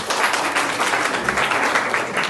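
A short burst of school students applauding, dense, even clapping that holds steady throughout, fairly loud and close with no voices standing out.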